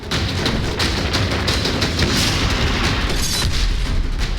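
Missile strikes and bomb blasts in the Ukraine-Russia war, a loud, dense barrage of booms and rumbling detonations that continues without a break.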